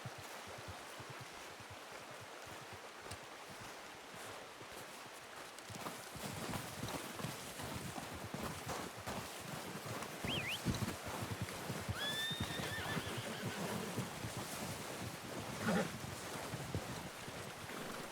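Horses in the video game Red Dead Redemption 2, hooves clopping in a steady gait over a running stream, growing louder midway, with a couple of whinnies and snorts rising above the hoofbeats.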